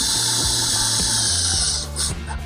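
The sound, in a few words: driving 3/4 inch Trex screws into aluminum railing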